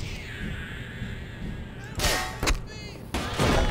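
Automated turret opening fire in Black Mesa, with loud sharp gunshot bursts cutting in after a droning mechanical hum, several close reports in quick succession.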